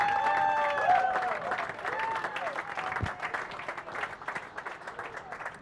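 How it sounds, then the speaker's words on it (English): Crowd applause rings out at a men's pro racquetball semifinal at the Olympic Club in San Francisco, a dense patter of clapping with some cheering, mixed with commentary voices that gradually thins out. "he gets the round of applause from the crowd"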